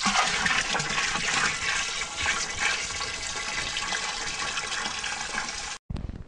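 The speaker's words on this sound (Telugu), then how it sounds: "ఈ డ్రమ్ములో 200 లీటర్ల నీళ్ళు తీసుకోవాలి" Water gushes steadily and loudly into a drum being filled with 200 litres for a neem preparation. The rushing flow continues almost unbroken, then cuts off abruptly near the end, with only a short burst of sound after it.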